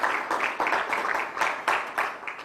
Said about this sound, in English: give District Attorney Larry Krasner a real big round of applause